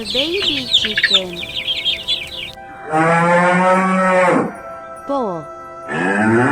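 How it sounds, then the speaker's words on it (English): A bull lets out long, loud, drawn-out moos with strong harmonic tone, two sustained bellows and a shorter call between, following some clucking fowl at the start. "Bull."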